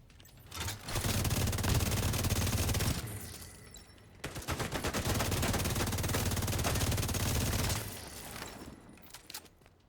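Rapid automatic gunfire in a video game, two long sustained bursts of loud, dense shots separated by a short pause, with scattered single shots trailing off at the end.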